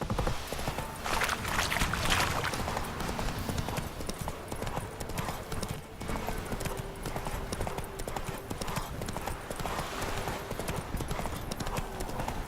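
Horse hooves clip-clop in a steady, rapid rhythm in The Witcher 3 video game, continuous and fairly loud, with faint background noise throughout.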